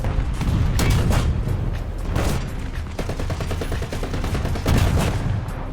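A Ram tank's 76mm gun fires repeatedly in War Thunder, a series of loud booming shots spaced a second or so apart amid battle noise, with no talking.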